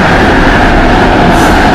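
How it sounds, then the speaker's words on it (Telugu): A driverless metro train in Malaysia rumbles loudly and steadily, a dense continuous roar of wheels on rails heard from on board. "మలేషియన్ మెట్రో చూడండి"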